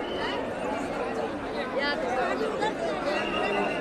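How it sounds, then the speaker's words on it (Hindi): A dense crowd of pilgrims at Baba Baidyanath Dham makes a continuous, close hubbub of many overlapping voices, with no single speaker standing out. "लेकिन देखो आप कितना भीड़"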